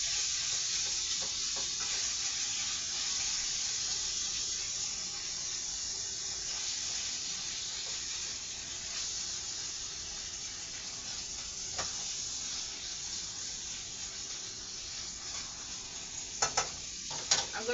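Ground beef cooks down in a pan with a steady, moderately quiet sizzle and hiss that runs throughout, with a few sharp clicks near the end.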